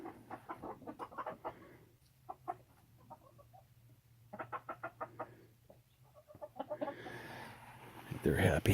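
Backyard hens, including a group of younger birds, cluck softly in short bursts at close range, with a person talking intermittently over them and a louder rustling burst near the end.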